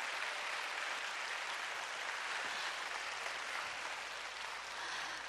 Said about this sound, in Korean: 바이올리니스트에게 큰 박수 부탁드립니다